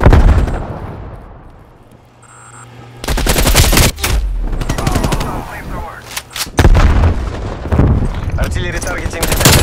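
Artillery fire in an online military shooter game's hardpoint mode, with heavy blasts and rapid gunfire crackling loudly after a quieter opening, shots arriving in dense bursts mixed with radio voice callouts.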